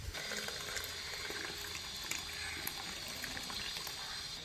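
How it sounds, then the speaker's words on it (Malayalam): Boiled tea brewed with cinnamon, sugar and tea powder is poured into a glass for lime tea, making a quiet, continuous liquid trickle against faint background noise. "തിളപ്പിച്ച് വെച്ചിരിക്കുന്ന ചായ ഇതാണ്ട് ഇതിലേക്ക് ഒഴിക്കുന്നു"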